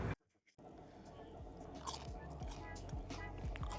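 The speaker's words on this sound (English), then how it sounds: "I know you can hear that crunch." Crunchy bites into fried shrimp at a seafood stop on the coast, a few sharp crisp crunches with chewing, close and fairly loud, after a brief silence and with background chatter.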